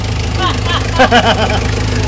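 A rebuilt engine in a Mitsubishi L300 runs at a steady idle, a loud, even throbbing hum close by, while someone speaks over it briefly.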